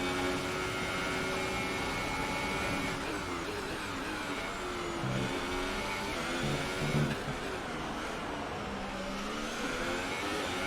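An F1 car's engine drones steadily in F1 2018 racing at Singapore, a continuous high-pitched whine with shifting tones as the car accelerates and changes gear, with no voices over it.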